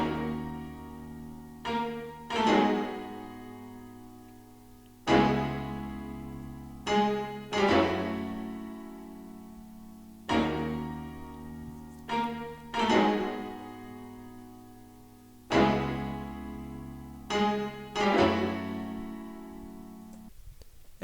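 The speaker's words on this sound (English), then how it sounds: "I added a viola, staccato, as well as a piano, and they both sound like this." An orchestral interlude passage of staccato viola and piano playing short, detached chords in a repeating pattern, clear and moderately loud, with rhythmic bursts and brief decays between phrases and no voices.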